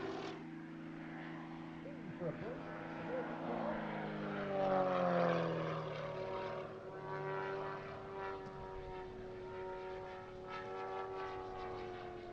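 A propeller-driven display aircraft, likely a model flying alongside a full-size plane at Little Gransden Airshow, drones overhead with a rising and falling engine note as it manoeuvres, moderately distant, beneath a commentator's voice.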